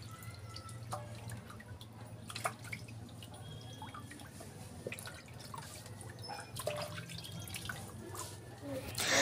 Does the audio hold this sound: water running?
yes